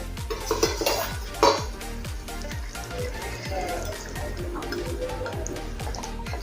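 Fried fish pieces go into bubbling yogurt gravy in a pan over a gas flame, with clinks and scrapes of a utensil against the pan over a steady simmering, sizzling background.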